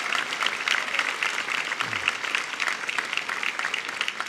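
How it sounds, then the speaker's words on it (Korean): A church congregation gives encouraging applause to the middle-school youth group after their worship song at a special dawn revival service: a dense, even wash of many hands clapping, steady and moderately distant, with no voices. "중등부 친구들에게 다시 한번 격려의 박수 부탁드리겠습니다"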